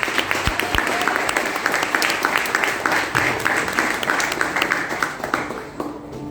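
Congregation applauding during a church service, a dense sustained run of many hands clapping that holds steady for several seconds and thins slightly toward the end.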